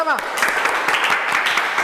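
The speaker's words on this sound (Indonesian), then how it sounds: "Tepuk tangan bersama-sama." A classroom group claps together in a brief, dense burst of applause, with voices mixed in.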